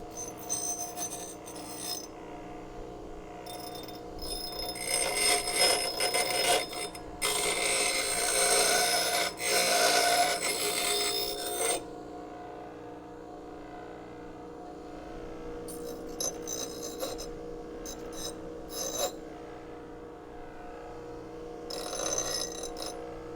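A bench grinder spins up to speed in a workshop, then grinds a hot piece of metal from a Crew Cab Charger restoration in loud bursts, with a steady motor hum underneath between passes.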